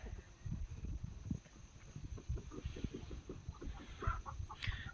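Shamo and aseel gamefowl chickens cluck in their pens, a dense run of short low clucks throughout with a higher call near the end.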